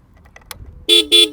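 Two short, loud beeps from the horn of a 2021 TVS Apache RTR 160 4V motorcycle, preceded by faint switch clicks.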